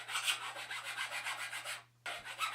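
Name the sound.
fine sandpaper rubbing a bike fork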